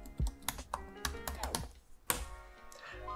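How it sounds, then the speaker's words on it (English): Password typed on a computer keyboard while logging into a Raspberry Pi, with a quick close run of uneven key taps and clacks and a brief voice in the background. "then type in the password Raspberry"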